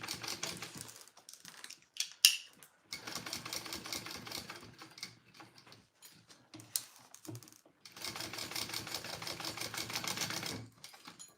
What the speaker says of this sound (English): So I'm just doing a second row of stitching.